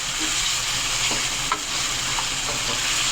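Chicken for a restaurant-style chicken palak curry sizzles steadily in a hot pan while a spoon stirs it, giving a constant hiss broken by a few soft scraping clicks, with no talking.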